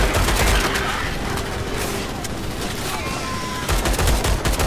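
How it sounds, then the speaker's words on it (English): Rapid bursts of pistol fire from a Glock in the Starship Troopers: Extermination shooter game, with repeated cracks over a dense wash of battle noise. "Down to the pistol. Got my Glock out."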